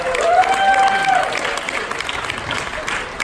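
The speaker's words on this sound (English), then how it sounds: "I think we need a round of applause for the executive team for what they do" An audience at a stand-up comedy show applauds the executive team, a dense, steady burst of clapping from a crowd that fades slightly toward the end, with no talk over it.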